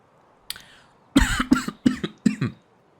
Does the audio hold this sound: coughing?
yes